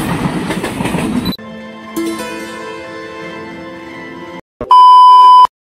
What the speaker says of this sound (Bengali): দেখতে পারো পুরো নতুন রেল